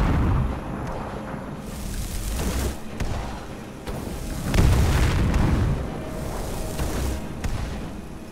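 A fire spell being cast in Skyrim gives a series of roaring, booming whooshes that swell and fade several times over the clip, loud and close with no talk over them.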